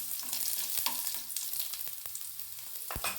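Small pieces of chopped garlic frying in oil in a pan for a poppy seed chutney, producing a faint continuous crackling sizzle with scattered pops and light stirring scrapes, and no voices.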